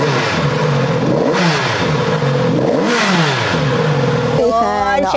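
A stock-exhaust 2022 Kawasaki Z900 RS inline-four motorcycle revs repeatedly, each rise and fall of pitch loud and close, ending with a rough clattering idle.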